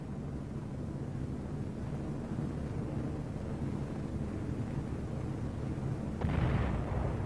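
A distant World War II artillery bombardment in the Pacific produces a continuous low rumbling roar, with a heavier blast near the end and no voices.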